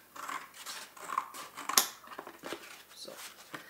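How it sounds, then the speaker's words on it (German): A thin wooden fruit crate being cut open, giving a series of quiet, crisp snipping and cracking sounds with one sharper snap midway, close by and without talk. "entferne ich zunächst den Boden und schneide die Obstschachtel auf"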